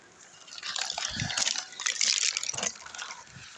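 Someone out on a walk takes a few swallows of water, with soft gulping and liquid sounds close up against a light outdoor background.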